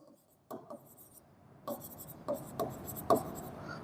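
A pen or marker scratches out handwritten numbers during a math lesson, a series of short, quiet strokes and taps at irregular intervals, close and faint against a hushed room.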